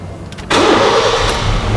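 A 2009 Honda Fit EXL engine cranks and catches about halfway through, then settles into a steady, fairly loud idle close by, with no talking over it.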